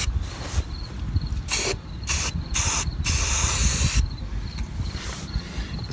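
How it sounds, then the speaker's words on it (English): Rust reformer sprayed from an aerosol can onto the rusted underside of a 2011 Honda CR-V, coming as several close hissing bursts of varying length, one longer spray in the middle, over a low background rumble. "So I'm gonna hit it with some of this rust reformer"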